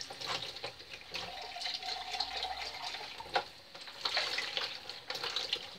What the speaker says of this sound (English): Get some running water.